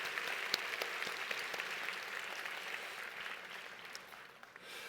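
A church congregation applauding, with a sustained, fairly soft patter of many hands clapping in a large room that gradually thins toward the end.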